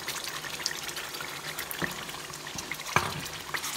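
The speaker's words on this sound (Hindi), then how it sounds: "चले मैं इसमें थोड़ा सा पानी ऐड कर रही हूँ" Water is poured into a pan of simmering mutton korma paste, a faint liquid trickle and bubbling with a few soft sizzles and clinks, quiet and close.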